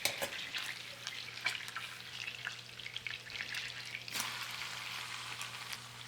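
Leeks and other vegetables sizzling in olive oil and a stick of butter, a steady close frying hiss with occasional crackles and stirring clatter throughout.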